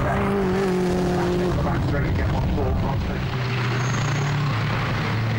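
Onboard a touring car racing at Croft circuit, the engine roars loud and continuous, with pitch sliding down as the driver shifts, under a commentator's voice.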